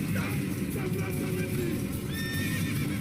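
A horse whinnies loudly in Assassin's Creed, a long neigh with hooves clip-clopping beneath it, set against a dense game soundscape of crowd murmur and ambient noise.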